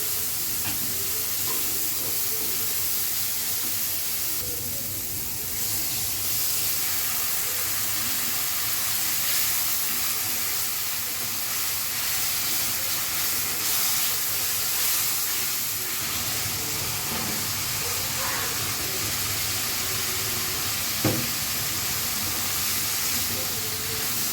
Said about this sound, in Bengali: মশলাটা খুব ভালো মতন কুক করে নিতে হবে